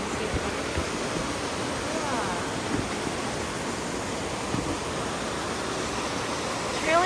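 Trillium Falls pours in a steady, broad rush of water, constant and full without pause, heard on a hike with faint voices now and then.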